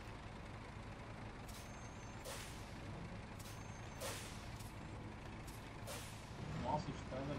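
A truck's air brake in the video game SnowRunner releases in several short hissing bursts over a low engine rumble, with a voice briefly heard near the end.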